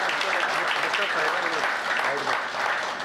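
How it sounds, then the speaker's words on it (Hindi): Steady, dense applause fills the clip from an audience at a Hindi poetry recital in Delhi. The clapping stays loud and continuous throughout, and some voices show through it. "एक बार तालियां बजाकर मुझे भी आदेशित कर दीजिए"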